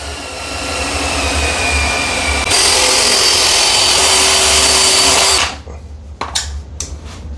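A power drill or cutting tool runs steadily through a plastic shower drain pipe for a bonding flange, rising in pitch partway through and then cutting off abruptly, followed by a few brief knocks and clatters up close.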